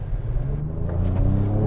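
A 2025 Ford Explorer ST with a 3-liter twin-turbo V6 gives a deep, steady engine rumble heard from inside the cabin, a low droning hum that holds throughout a brief moment of driving.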